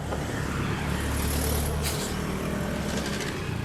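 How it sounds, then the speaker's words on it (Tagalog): Steady road traffic with many vehicles streaming past, a dense continuous rumble and whoosh with one car surging close by near the middle, no voices. "Marami na sasakyan."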